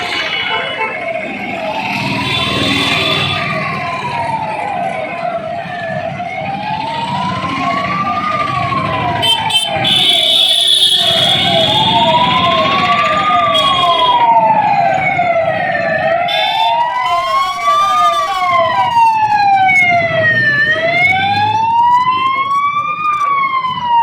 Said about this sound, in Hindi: 2 मिनट के लिए सायरन बजाए गए